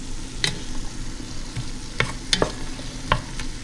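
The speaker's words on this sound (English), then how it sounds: "Starting to sizzle pretty good in here." Swamp rabbit gravy sizzles steadily in a frying pan, close by, with occasional sharp clicks and scrapes of a utensil stirring through it.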